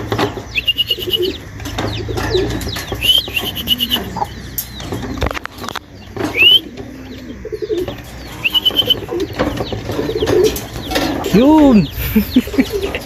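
Pigeons returning to a loft give soft, low coos and occasional brief wing flaps, mixed with other bird calls around them, while someone speaks quietly nearby.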